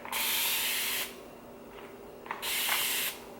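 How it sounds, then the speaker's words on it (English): A spray bottle mists plain water in two bursts, a long hiss and then a shorter one, loud and close with a brief quiet gap between them. "I will spray this on my face a few times midday just to sort of refresh"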